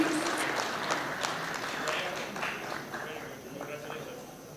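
A room of people at a Kenyan tax awards ceremony applauds an award winner with moderate clapping while a voice talks faintly underneath, the clapping easing off toward the end.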